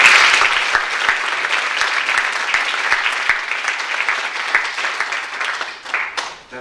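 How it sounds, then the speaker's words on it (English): A special round of applause for the Linehans family at a college awards ceremony, sustained close clapping from a crowd that holds steady and then tapers off near the end. "So give them a special round of applause."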